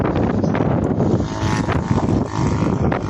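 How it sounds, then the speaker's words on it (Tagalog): Strong, steady wind roars and buffets the microphone outdoors at a breezy scenic viewpoint, a continuous broadband rush with no break. "napakalakas ng hangin"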